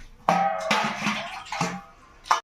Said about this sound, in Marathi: स्वच्छ भाजी धुवून घेऊ आणि मग उकडत टाकू